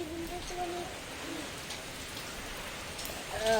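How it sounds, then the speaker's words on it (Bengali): Rain from a Kalbaishakhi storm falls steadily on surfaces as a broad, even hiss, with a few faint bird calls nearby and no clear talk. "কেমন বৃষ্টি হচ্ছে দেখো"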